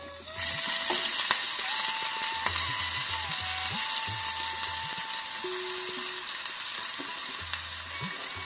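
Chopped onions frying in hot oil with cumin seeds, a steady close sizzle and crackle with occasional clinks of a stirring utensil against the pan.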